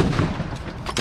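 A loud, sharp blast from an Army mortar or artillery piece being fired during an indirect fire drill, with a noisy, broadband rumble rolling on through the whole second.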